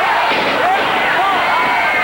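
A wrestling arena crowd roars loudly and continuously in response to a fight breaking out in the ring, a dense, steady wall of cheering and shouting.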